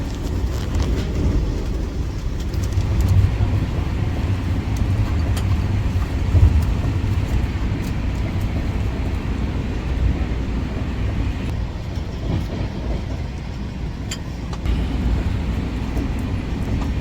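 The Dehradun Express passenger train running on rails, a continuous heavy low rumble heard close from on board, steady throughout with faint rattles and no speech.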